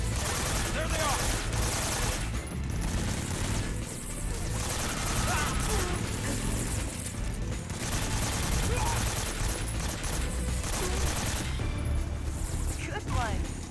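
Gunfire in the video game Metal Gear Solid 3, rapid bursts and single shots crackling over a busy, noisy battle scene, with voices speaking in between.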